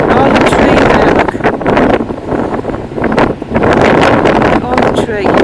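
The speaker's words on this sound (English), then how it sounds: "I know it's windy on here." Strong wind buffeting the microphone on a river bank, loud gusty roaring that dips briefly and surges back, with a person talking over it.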